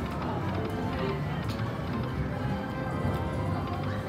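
Rapid clip-clop of galloping hooves from a slot game runs continuously over busy casino background noise, with voices talking.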